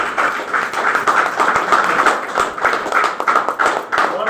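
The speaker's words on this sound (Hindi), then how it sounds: "जोरदार ताली उठे दिया" Loud, fast clapping from a group of people, sharp claps arriving in quick irregular bursts that swell and dip, close and prominent.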